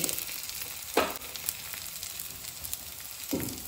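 Dill leaves frying with onions in a hot pan, a close, continuous crackling sizzle punctuated by two louder stirring scrapes.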